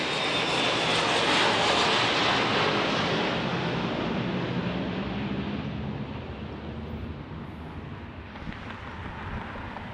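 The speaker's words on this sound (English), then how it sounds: "It was a PC-24, JV." A Pilatus PC-24 business jet roars past Dallas Love Field, a broad, loud engine rumble and hiss that peaks early and then slowly fades into the distance.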